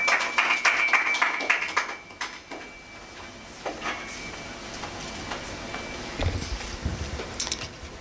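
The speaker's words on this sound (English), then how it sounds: "let's clap for Tabi as she comes." Audience claps at a stakeholders workshop on inclusive communication as a speaker comes forward, a scattered burst of hands that fades after a couple of seconds into sparse claps and room noise, with a steady electronic tone running underneath.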